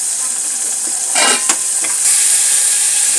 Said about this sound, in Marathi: मिश्रण चांगल्या पद्धतीने ढवळून घ्यायचं आहे